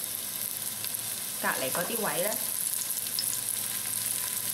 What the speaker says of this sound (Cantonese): 我而家咧就去慢慢俾心機煎我啲牛肉先